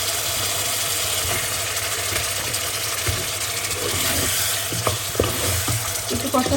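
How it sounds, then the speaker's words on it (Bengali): Fish frying in a pan of spice masala, a loud continuous sizzle close up with occasional scraping stirs and small clinks of a spoon against the pan. "এখন মাছগুলো একটু কষায় উঠায় নেব"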